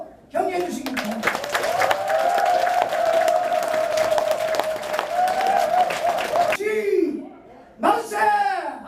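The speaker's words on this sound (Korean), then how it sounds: "여러분 일단 큰 박수로 격려해 주시기 바랍니다" A crowd at a Korean election campaign office opening claps loudly and steadily while a sustained voice carries over the applause, then cheering voices follow briefly near the end.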